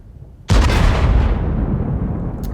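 A tank blowing up in World of Tanks: a sudden loud, broadband boom bursts in after a quiet lead-in, then rumbles on in a long, slowly fading roar with a faint crackle near the end.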